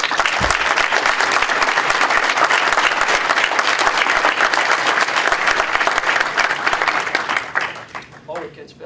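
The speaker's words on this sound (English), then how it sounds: "I'd ask you to join me in a round of applause" Audience at a memorial lecture applauds faculty members, dense sustained clapping filling the room for about eight seconds before thinning out and fading near the end.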